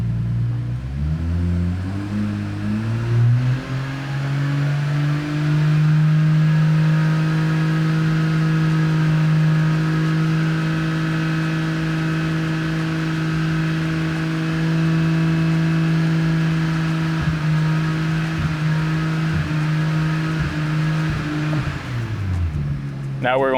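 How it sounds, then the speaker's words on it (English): A BMW B58 car engine is raised from idle and held steady near 3500 RPM, a loud sustained drone with a smooth rise at the start and a drop back toward idle at the end; a voice speaks briefly over it. "Now we're going to increase the idle speed to 3500 RPM, and we're going to hold that for 10 seconds."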